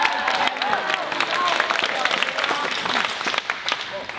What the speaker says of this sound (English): They're gonna cheer for you, Hercules, as you do.